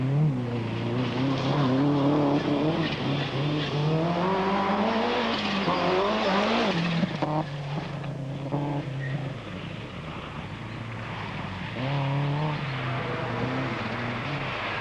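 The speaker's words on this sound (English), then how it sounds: "David Mann was hustling his Toyota along as quickly as he could." A 1992 Toyota rally car driven hard on a forest stage. The engine is loud and close and revs rise and fall continuously, with brief gear-change gaps near the middle and tyre scrabble on the loose surface.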